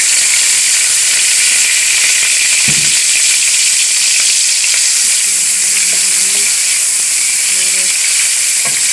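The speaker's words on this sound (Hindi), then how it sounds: "और अब इसी घी में मैं ये प्याज डाल दूँगी।" Onions sizzle and fry steadily in hot ghee, a constant bright crackling hiss with a few faint clinks and bumps in the background.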